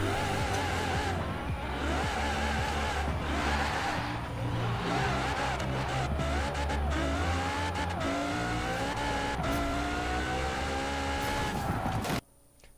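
A car engine in Forza Horizon 4 revs hard and climbs through gears, the whine rising and falling repeatedly before cutting off abruptly near the end.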